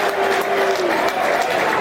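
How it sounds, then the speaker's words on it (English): Football crowd at Millwall against Stoke City applauding, a steady wash of clapping from the stands with a commentator speaking over it. "Good applause for both"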